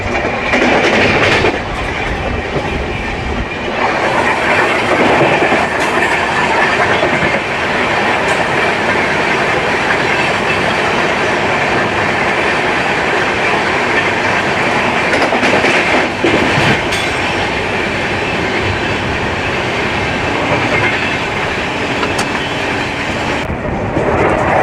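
The Dhauli Express runs at speed past the Angul-Puri MEMU, giving a loud, continuous roar of wheels on rail with rhythmic clickety-clack and brief surges as the trains pass, close and unbroken throughout.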